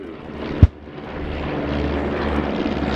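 First World War biplanes, including an SE-5A, fly in the Bremont Great War Display Team's air display at RIAT 2018; a sharp thump is followed by a droning propeller engine that gradually grows louder.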